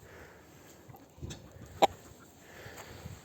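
A Sultan rooster and hens cluck faintly in a coop against a quiet background. One sharp, brief cluck stands out near the middle among softer scattered sounds.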